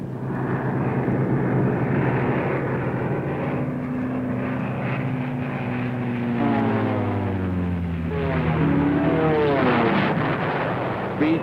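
WWII P-38 Lightning warplanes flying in on the Ploiești oil-refinery raid in Romania, a droning rumble of piston engines that rises and swells with pitch sweeps as the aircraft pass, heard in archival footage.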